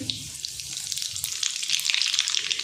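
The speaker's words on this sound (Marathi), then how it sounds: "जिरे मोहरी चांगली तळू द्यायचा" Cumin and mustard seeds frying in hot oil in a pan: a bright, steady sizzle with rapid crackling pops that grows busier toward the end, close up and without talk.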